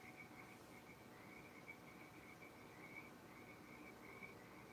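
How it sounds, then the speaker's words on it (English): Frogs call in a steady, faint chorus of repeated croaks and trills, a continuous distant background with no voices over it. "Those froggies."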